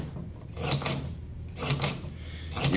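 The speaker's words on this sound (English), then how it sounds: "So I'm just going to take a dry brush and run it through these." A dry brush scrubbed through the chambers of a revolver cylinder gives three short raspy rubbing strokes, close and fairly quiet, with no talking.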